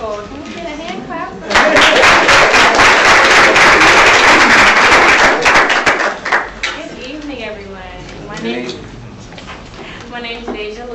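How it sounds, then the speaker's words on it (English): An audience at an award ceremony breaks into loud, dense hand clapping that lasts about four seconds, then fades into scattered claps and a voice speaking. "Can we get a hand clap?"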